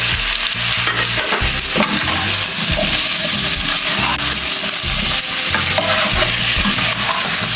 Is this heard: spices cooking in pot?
yes